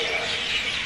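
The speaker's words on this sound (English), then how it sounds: "Yeah, all the birds. It's like this all around the city." A dense chorus of many birds chirping over Kandy city, Sri Lanka, forms a steady, bright wash heard from a distance, continuous through a brief moment with no talking.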